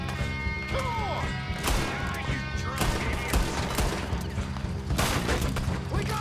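Gunfire in Red Dead Redemption 2, with repeated sharp shots and impacts cracking over a dense, noisy game soundscape at moderate volume.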